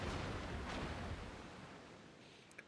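Naval guns fire in the game World of Warships: one loud, booming salvo with a long rumbling tail that fades over a few seconds, then a small pop near the end.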